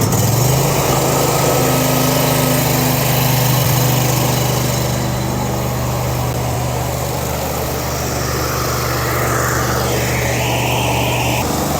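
The small engine of a hydro-jetter trailer runs loud and close with a steady buzzing drone, the pitch shifting slightly as it settles, with no talk over it.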